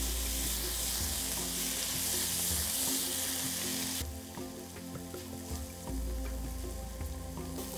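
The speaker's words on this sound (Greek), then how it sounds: "Στο ίδιο τηγάνι θα σοτάρουμε, θα βάλουμε το χαλούμι" Halloumi cheese sautéing in a frying pan, a steady loud sizzle with crackling spatters throughout, the intensity dipping briefly midway as the pieces are stirred, with no voices.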